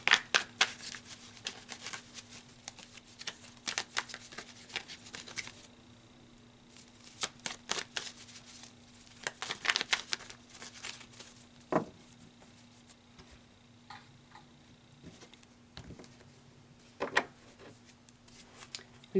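Tarot cards shuffled and drawn by hand at close range, with quiet papery riffles, slides and soft taps coming in irregular bursts over a faint steady hum.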